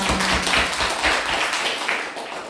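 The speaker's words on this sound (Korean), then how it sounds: "박수 한번 해봅시다." A church congregation claps together, a dense burst of hand claps that holds steady and then gradually thins out.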